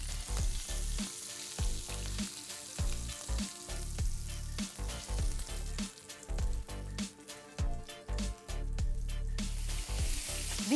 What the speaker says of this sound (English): we have to fry this onion paste till it is a beautiful golden brown in color